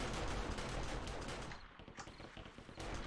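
Automatic turrets firing in the survival game 7 Days to Die, a dense rapid stream of gunfire bursts that stays loud throughout, thinning slightly midway before picking back up.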